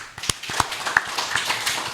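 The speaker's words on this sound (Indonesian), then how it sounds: "Tepuk tangan dulu." A group gives a brief round of applause, a short burst of separate, sharp claps that land unevenly and stay moderately loud, with no one speaking.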